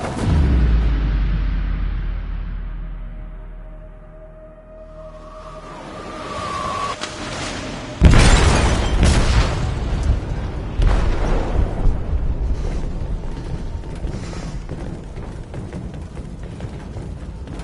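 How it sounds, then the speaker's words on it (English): A video-game explosive goes off in a ship's hold, with a heavy boom breaking in midway and a long rumbling, crackling aftermath of debris and fire, with no speech. "They detonated an explosive in the hold."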